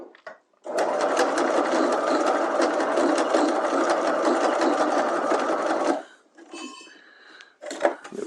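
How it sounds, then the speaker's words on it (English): A sewing machine running a dense zigzag back stitch back and forth on a fly front zipper, a loud, steady mechanical whir for about five seconds, then a pause and a few short bursts. "I'm just going to do a back stitch back and forth a couple times."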